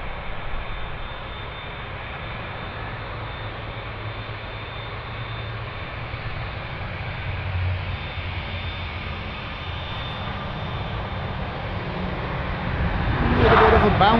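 A United Airlines Boeing 787-10 Dreamliner lands on runway 25R at a freezing Frankfurt Airport, a steady distant jet roar that swells louder toward the end as the plane touches down.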